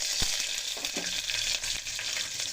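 Mustard seeds, curry leaves and green chilies fry in a cooker pot, giving a dense, steady sizzle with a few sharp pops and a stirring scrape. No one speaks.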